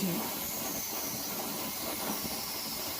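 Pressure cooker venting steam while cooking mutton pulao, a loud continuous hiss that holds steady for the whole stretch.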